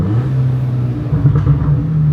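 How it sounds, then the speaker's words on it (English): A hybrid-turbo MK7 Volkswagen GTI engine gets a free rev, a loud, close, deep rumbling drone that swells slightly partway through with no voices over it. "That free rev's really good."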